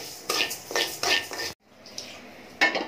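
A utensil clatters and scrapes in a nonstick pan while khichuri is being cooked. Several sharp metallic strokes come in quick succession, then a brief silence, then softer scraping and a final clink.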